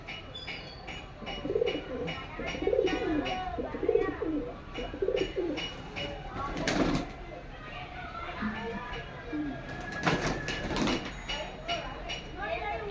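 Soft, low pigeon coos repeat in short rhythmic phrases nearby, with a few brief bursts of noise and some fainter background voices.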